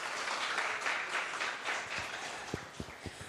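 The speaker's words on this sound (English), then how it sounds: "at this point it requires a round of applause" An audience at an IIID Hyderabad Regional Chapter event applauds the college management with a steady wash of clapping. A few low thumps stand out near the end.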